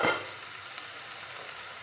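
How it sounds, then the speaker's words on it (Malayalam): Mushrooms sizzle gently in a pan as a ground chilli and coriander spice paste goes in, a brief louder burst of frying at the start settling into a soft, steady hiss. "ഈ മഷ്റൂമിലേക്ക് ഇനി അരപ്പ് ചേർത്ത് കൊടുക്കാൻ പോവുകയാണ്."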